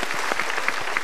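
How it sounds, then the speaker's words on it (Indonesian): An Indonesian studio audience at a motivational talk show claps briefly, a short burst of scattered hand claps at moderate loudness with no voices over it. "Kita berikan tepuk tangan dulu untuk Mbak Ratu"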